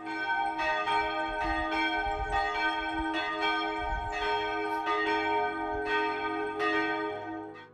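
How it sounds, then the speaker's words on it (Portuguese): A church bell rings steadily in Santa Maria de Jetibá, a resonant metallic peal repeating about every second with long overlapping ring-out, loud and continuous throughout. "Então vamos ver esse sino aí que foi roubado."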